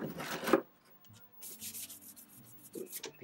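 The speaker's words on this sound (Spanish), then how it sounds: "Y le di una lijada por aquí enfrente también." Hand sanding on a cracked truck fender: short bursts of rubbing abrasive strokes, one strong scrape early on, then a quieter run of uneven rubs, close by with no talking.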